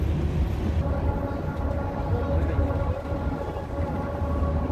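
A train on the Royal Gorge Route rumbles along with a steady low rolling drone and faint horn-like tones, heard from nearby at moderate volume.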